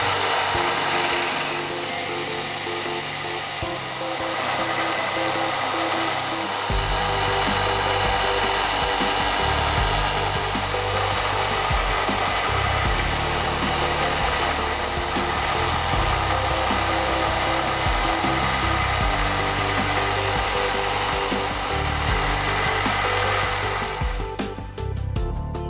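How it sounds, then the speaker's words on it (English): A belt sander grinds steadily against wood for a long stretch, a loud continuous abrasive roar with a droning motor underneath. "used a belt sander to bring all of the surfaces closer to the line"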